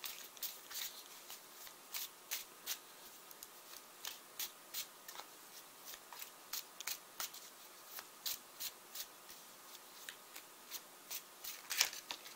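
Tarot cards being shuffled by hand, a quiet series of regular papery riffles and soft slaps repeating steadily, with one sharper snap near the end and no talking.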